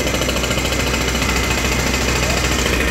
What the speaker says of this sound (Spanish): Ahí está el martillo.